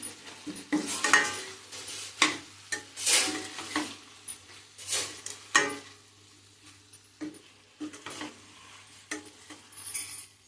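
A spoon clinks and scrapes against a pot while bottle gourd tamarind curry is stirred, with irregular close knocks and brief soft sizzles between pauses.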